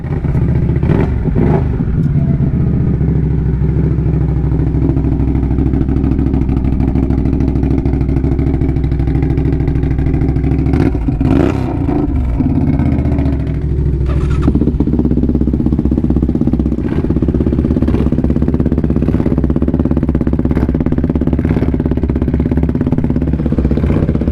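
A Raptor 700 ATV engine runs loud and steady while riding on pavement, with a continuous close-up drone, rises and dips in revs, and a brief surge of throttle partway through.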